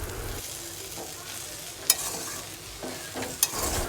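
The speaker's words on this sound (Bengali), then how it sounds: "এদিকে বোন চাউমিন রান্না করছে" Chow mein stir-fried in a pan at home, a steady close sizzle with scraping stir strokes and two sharp clinks of utensil on pan, no voices.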